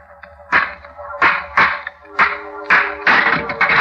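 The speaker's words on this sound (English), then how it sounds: "I picked up a stone." A stone strikes an old rusty lock on a door in a radio drama, delivering about six sharp metallic whacks at uneven intervals, loud and close, with some ringing after each blow.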